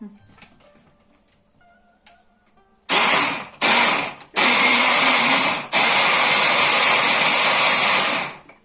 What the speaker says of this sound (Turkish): Şimdi bunu bir blenderdan geçirelim.